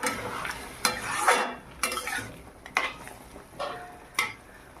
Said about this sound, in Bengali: একটু নেড়ে চেড়ে নিলাম